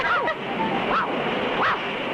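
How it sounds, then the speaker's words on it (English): From a 1959 cartoon comes a steady, loud roar of rushing open river water near dangerous rapids, with rising and falling tonal swoops laid over the constant wash. "Sounds like open water, rushing over huge boulders."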